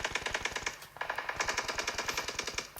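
Rapid automatic gunfire in the video game PUBG during a competitive scrim match, a dense, evenly spaced burst of shots with a brief pause near the start, loud and close.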